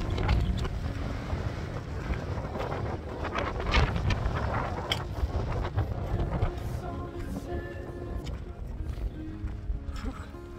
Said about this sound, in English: It's windy up here. Some of the gusts are crazy.